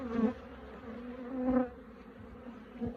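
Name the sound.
honeybees buzzing at an apiary hive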